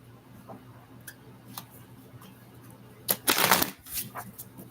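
Playing cards handled close by, with light scattered flicks and then a brief, louder shuffling riffle near the end.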